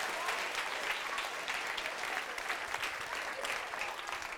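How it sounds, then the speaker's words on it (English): Steady applause from a crowd at a book awards ceremony, dense and even for several seconds, with no one speaking over it. "Give yourselves a clap."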